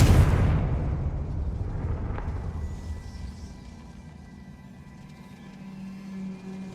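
A Confringo blasting spell from the video game Hogwarts Legacy goes off in a loud burst at the start, then a long rumbling tail slowly fades under low ambient game sound.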